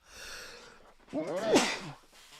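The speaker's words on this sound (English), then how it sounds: "Sneezing live on camera" A single loud sneeze with a sharp intake of breath just before it, close to the listener, followed by a brief snort.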